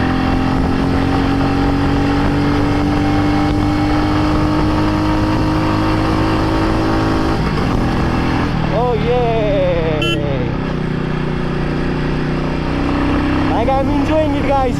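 A Royal Enfield Meteor motorcycle cruising on the road, its engine a steady, loud drone that rises slightly in pitch while a rider talks over it; the rumble runs continuously with light wind noise throughout.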